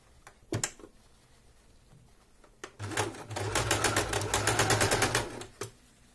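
A sewing machine stitches a fabric face mask, with a couple of short bursts followed by a longer fast rattling run of stitching, close and clear.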